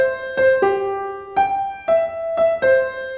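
A musical motif played upside down and backwards as a retrograde inversion, heard as six distinct sustained tonal notes in a steady sequence, each attack crisp and ringing, close and prominent with no speech.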